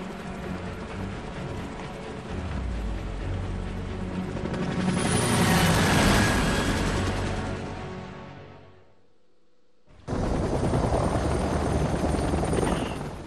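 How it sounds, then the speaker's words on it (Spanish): A helicopter in the video game Gears of War: Judgment beats with steady rotor thumping and a turbine whine, swelling louder, fading out, then cutting back in abruptly, loud and close. "¿Qué tal tu helicóptero en vez de eso?"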